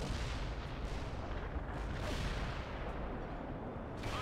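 Artillery firing in World in Conflict: heavy, continuous rumbling bombardment with overlapping booms, loud and dense throughout the short stretch.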